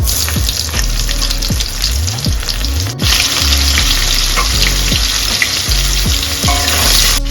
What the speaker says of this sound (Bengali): 2 টুকরো দারচিনি আর উপর জিরে ফোড়ন দিয়ে নেব। কয়েক টুকরো পেঁয়াজ,